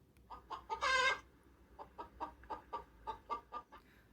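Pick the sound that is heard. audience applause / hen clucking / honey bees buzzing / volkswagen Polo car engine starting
hen clucking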